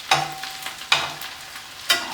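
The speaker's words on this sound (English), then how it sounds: "I can tell that the crepes are getting pretty brown on the other side, so I'm going to go ahead and flip these" Crepes cooking in a pan just after flipping, with three sharp clacks of a utensil against the pan spaced roughly a second apart over a soft, quiet sizzle.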